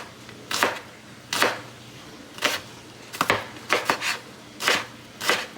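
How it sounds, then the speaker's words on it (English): A knife thinly slicing cucumber on a board for a creamy cucumber salad: a handful of crisp, close chops spaced unevenly over a few seconds, with no voices. "Now I'm going to go ahead and finish cutting up my cucumber"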